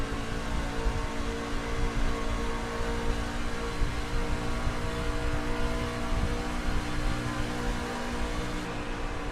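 A race car engine drones steadily throughout a racing video game, a constant buzzing whine with a layered, slightly wavering pitch and no clear pauses, heard alone at moderate loudness.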